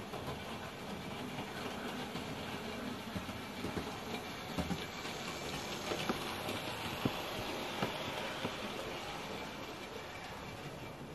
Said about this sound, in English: we're going to slow this locomotive down